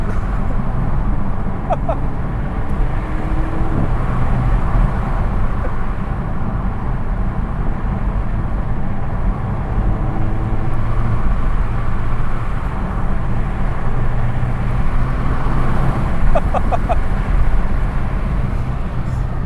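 Turbocharged car engine heard from inside the cabin while chasing a Megane RS 300 on country lanes, a steady droning roar with road rumble and occasional faint turbo whistles throughout.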